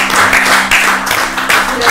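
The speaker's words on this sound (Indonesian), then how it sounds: "Luar biasa, tepuk tangan dulu." Applause from an audience during a light talk session in Maluku, a steady patter of clapping that is loud and close, with some voices mixed in.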